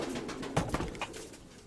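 Pigeons kept for breeding coo close by in a few soft, throaty bursts over low background noise, with no talking.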